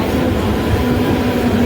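A Mumbai local train rolls by with a steady low rumble and faint rhythmic wheel clatter, continuous and moderately loud with no voices over it.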